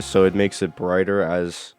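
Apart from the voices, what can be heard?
No distinct noise like a dog, phone or traffic.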